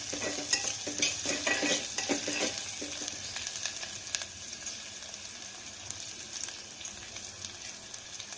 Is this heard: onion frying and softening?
yes